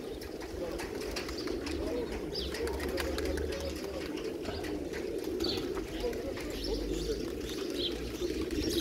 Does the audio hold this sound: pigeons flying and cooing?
yes